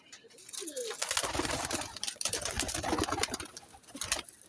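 Teddy Golden pigeons coo close by in soft, throaty bursts amid fluttering and shuffling, with faint talk in the background.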